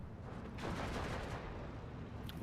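Distant artillery barrage in Steel Division 2, a low rumbling swell of overlapping blasts that builds after a moment and holds, fairly faint.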